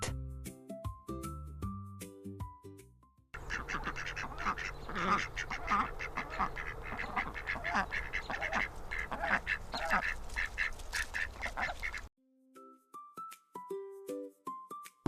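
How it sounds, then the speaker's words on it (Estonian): A domestic duck quacks repeatedly in a rapid, steady series lasting several seconds, fairly close and clear, framed by short musical tones before and after. "Part on kodulind."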